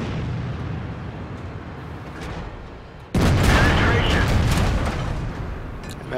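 Tank cannon fire in the World of Tanks game, a heavy IS-7 under shelling, bursting in loud and broadband about halfway through over a rumbling background of battle noise and continuing as a sustained, dense roar.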